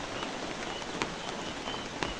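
Steady rain falls outdoors under a cloudy sky at a goat farm: a moderate, even hiss of drops on surfaces with a few slightly louder patters, and no voices.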